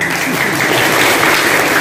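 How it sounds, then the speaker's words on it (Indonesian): A room full of students at an Islamic girls' boarding school debate applauds loudly, a dense, close burst of clapping lasting under two seconds. "Tepuk tangan dulu."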